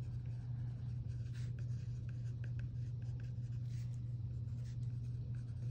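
Pen or pencil sketching a graph by hand, a steady scratchy scribble of short strokes and taps over a constant low hum.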